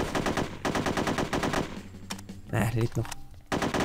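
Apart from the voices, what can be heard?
AK rifle gunfire in video game NOLF 2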